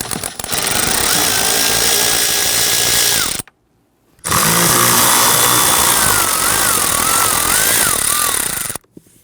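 Power tool whirring loudly and steadily while loosening and removing screws from the HVAC blower motor assembly of a 1999-2004 Jeep Grand Cherokee, in two long bursts separated by a brief pause.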